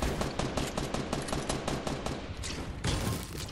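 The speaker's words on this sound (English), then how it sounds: "He's returning shots." An opponent's rapid video-game gunfire in a shooter match, loud dense bursts of shots rattling almost continuously with short breaks, with no talking.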